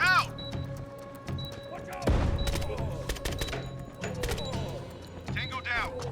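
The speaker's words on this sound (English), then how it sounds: "Flashbang out." A flashbang grenade goes off in the tactical shooter Door Kickers 2 with a sharp, heavy crack and thud partway through, amid scattered game clicks, thumps and tones, with radio-style voices speaking.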